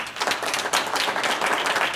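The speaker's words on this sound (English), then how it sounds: "Round of applause." Audience applause and clapping greeting a speaker at a public event, a dense steady crowd sound sustained for the full two seconds with no talk over it.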